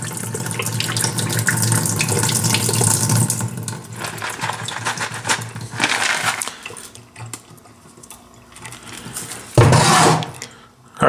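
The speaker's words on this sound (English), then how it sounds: "I let the water run out between my fingers" Water drained between fingers from tumbled rocks and ceramic media splashes and trickles steadily into a sink, with rattling and clinking as it pours through, then thins out before a final louder splash.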